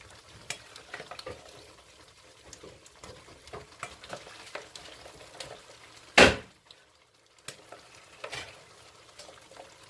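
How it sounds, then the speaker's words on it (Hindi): Chickpeas fry in a pan for a Lahori-style chana curry, making a faint, low crackle broken by scattered scraping clicks from stirring and one sharp, loud knock midway. "तकरीबन 4-5 मिनट इसको खूब भूनें"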